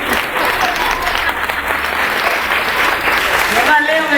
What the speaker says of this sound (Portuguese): Vamos aplaudir a Deus pelo dançarino oficial dessa igreja.